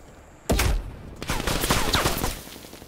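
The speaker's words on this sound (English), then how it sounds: "incoming artillery" Incoming artillery barrage in Call of Duty: Black Ops Cold War, a sudden loud blast followed by a dense, rolling string of close impacts and crackling explosions lasting about two seconds.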